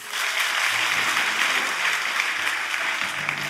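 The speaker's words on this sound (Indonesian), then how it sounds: "Tepuk tangan Tuhan Yesus" A church congregation at a Sunday worship service applauds for Jesus after the sermon, a full, even wash of clapping from many hands sustained throughout, with faint voices underneath.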